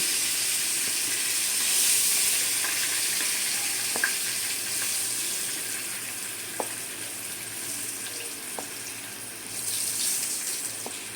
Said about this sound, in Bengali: আমার এই পটলটা সম্পূর্ণ ভাজা হয়ে গেছে, এখন আমি তুলে নেব।